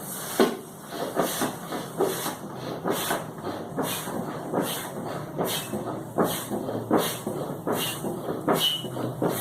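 A foot pump pushes air into a rubber balloon in steady, rhythmic strokes, each press giving a short breathy whoosh, repeated about twice a second at close range with no talk.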